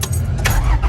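A 1995 Toyota Hiace Super Custom van's engine catches and settles into a steady low rumble, close and fairly loud, with a faint clink early on.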